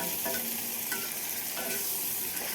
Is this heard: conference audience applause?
no